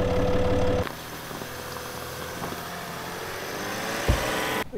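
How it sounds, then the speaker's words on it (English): A 4x4 engined vehicle in low range idles loudly, then drops to a quieter, steady low rumble as it reverses out of a bog, with a brief thump near the end. "And we're going out backwards, reverse gear."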